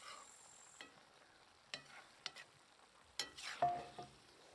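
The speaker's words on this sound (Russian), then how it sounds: "Все аккуратненько перемешиваем." Tatar-style macaroni is stirred in a pan: quiet, intermittent scrapes and clinks of a utensil against the pan over a faint low sizzle, with a few louder strokes near the end.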